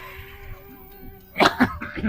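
A steady hum, then a burst of several harsh, close coughs in quick succession from an older man who smokes, at a train station.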